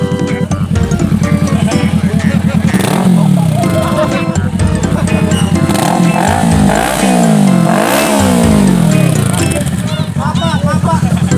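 A motorcycle engine revs loudly nearby during a Sunday morning group ride to the beach, rising and falling under steady crowd chatter and nearby talking.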